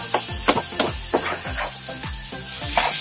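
Tomatoes hit hot oil with softened onions in a pan and sizzle loudly, with a steady frying hiss and a rhythmic series of stirring scrapes against the pan.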